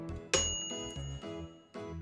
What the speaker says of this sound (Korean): 이게 시간 다 되면 땡 소리가 지린다